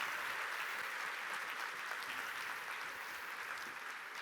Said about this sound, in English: Please give them a warm round of applause and a welcome to the Clio family.